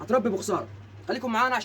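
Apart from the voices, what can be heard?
None of the usual background noises is heard.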